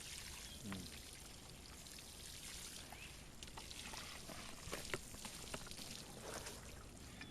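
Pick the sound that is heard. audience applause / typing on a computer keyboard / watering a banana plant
watering a banana plant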